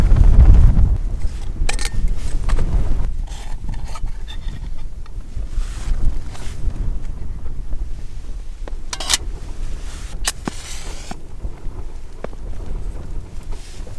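Strong wind gusts on a winter mountain in the Lake District, buffeting a nearby microphone with a low, uneven rumble and scattered sharp flaps and clicks.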